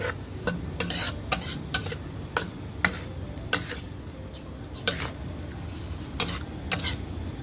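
Glass noodles stir-fried in a pan with sharp, irregular spatula clacks against the metal over a steady low sizzle, close and fairly loud, no voices.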